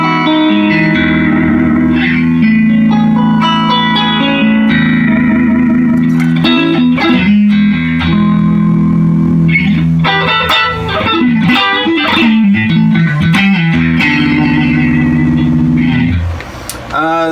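An electric guitar plays through the vibrato channel of a 1974 Fender Twin amplifier, loud, close, sustained chords and single notes with reverb and some distortion, ending in a brief pause, no talking.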